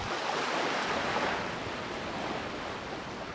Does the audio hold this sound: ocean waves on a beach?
yes